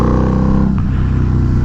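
A 2006 Harley-Davidson Night Rod fitted with a Vance & Hines full exhaust, its engine running close by with a deep, steady throb and a brief rise in pitch before settling back to a low idle.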